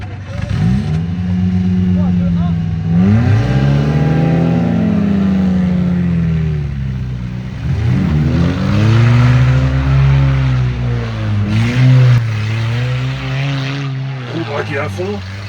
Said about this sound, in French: Mais en fait j'ai l'impression d'entendre mon moteur du coup.